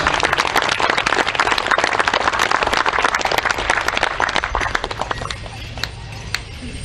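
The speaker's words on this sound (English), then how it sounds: "Let's give them a big round of applause." Audience applause at a Cowessess First Nation event with the Prime Minister: sustained dense clapping from a large crowd that stays loud for about five seconds, then thins and fades toward the end.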